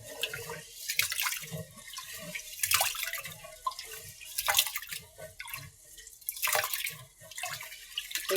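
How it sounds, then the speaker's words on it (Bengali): Rice being washed by hand in water, irregular swishing and dripping splashes in a quiet outdoor setting, close and fairly soft, repeating in uneven bursts without speech. "এখন চালটা ধুয়ে পরিষ্কার করে নেব।"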